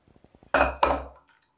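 Boiled water chestnut peels and their cooking water poured through a metal sieve into a pot in a home kitchen, giving a brief loud rush of splashing and clinking in two quick surges that fade within a second.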